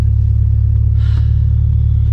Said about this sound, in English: I should have taught you how to launch your car a long time ago.